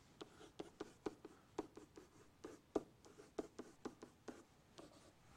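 Pen or pencil writing out a math definition on paper: a steady series of short scratchy strokes and taps, close and fairly quiet, with no voices.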